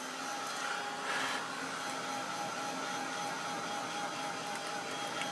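A heat gun blows steadily while drying acrylic paint on a Gelli plate, a faint, even whirring hiss with no breaks throughout.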